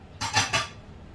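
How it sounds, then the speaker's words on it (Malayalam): Chicken and potato curry stirred in a pot, two or three quick metallic scrapes of a spoon against the pot's side in a short close burst, then quiet. "എല്ലാം കൂടി ഞാൻ ഇളക്കി യോജിപ്പിച്ച് കൊടുത്തിട്ടുണ്ട്"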